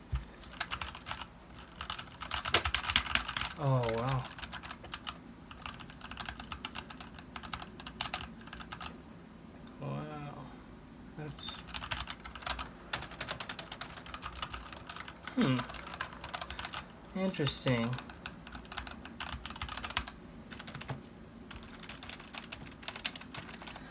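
Typing on an Anne Pro 2 60% mechanical keyboard, with crisp clicky keystrokes in uneven bursts close to the mic, while a voice reacts briefly between the runs of typing.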